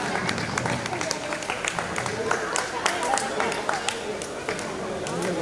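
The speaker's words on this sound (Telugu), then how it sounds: "ఉన్నవాళ్ళని చప్పట్లు కొట్టండి" Scattered, uneven clapping from an audience at a retirement function in a hall, rising and falling across the stretch, with voices and chatter mixed in.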